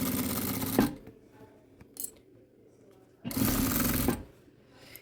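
Sewing machine stitching a plastic hygiene kit, two short bursts of fast mechanical stitching separated by quiet pauses and a small tap, close and moderately loud.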